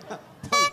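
A vehicle horn honks once, loud and close, near the end, after a short stretch of crowd noise and voices at an outdoor fan gathering.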